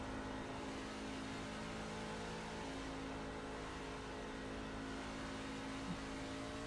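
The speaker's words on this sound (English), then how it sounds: "You can hear he's having to sit there and wait on it just to get that truck to rotate around that corner" A race truck in the High Performance Racing League runs through a corner off throttle, its engine humming steadily at a low, held pitch with no clear revving, heard from a distance at moderate loudness.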